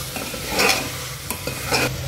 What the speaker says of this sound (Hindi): अब हम इसमें ऐड करेंगे कायरी। इसे भी अच्छे से मिक्स कर लेंगे।